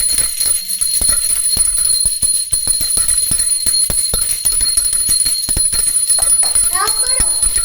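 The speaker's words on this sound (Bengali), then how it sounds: "ঘন্টা বাজাচ্ছি, বলেছি ঘন্টা বাজাও" A priest rings a hand bell during a puja, its bright, rapid, continuous tinkling loud and close, with people talking over and around it.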